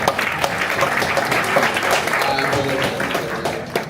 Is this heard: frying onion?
no